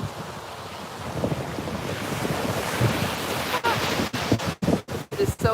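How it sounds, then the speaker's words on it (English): Ocean waves wash in under strong wind buffeting the microphone, a loud rushing roar close by with heavy gusts that break up into choppy dropouts toward the end. "It is so windy here this morning. The waves, I think it's time to move before I get wet."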